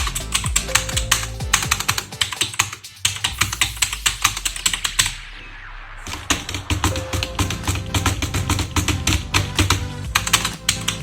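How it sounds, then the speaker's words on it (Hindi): Rapid typing on a Redgear Shadow Blade MK853 mechanical keyboard with blue switches gives sharp, clicky keystrokes close up, in dense bursts with a short pause midway. "और यह है मैकेनिकल कीबोर्ड की आवाज।"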